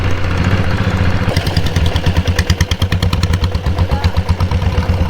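Diesel-converted Royal Enfield Bullet motorcycle engine running close by, a loud chugging idle with rapid rhythmic thumping that settles into a steady, clattering beat.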